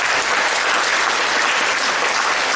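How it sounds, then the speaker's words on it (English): An audience at a gala claps after a performance, dense and steady applause filling the whole stretch without a break. "A round of applause once again."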